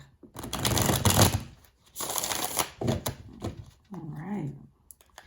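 Tarot cards are shuffled and clapped in quick, crisp bursts of riffling and slapping, several separate rounds with short pauses between, followed by a brief vocal sound at the end.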